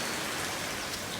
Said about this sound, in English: we picked up, I don't know, maybe a 1/2 inch of rain real quick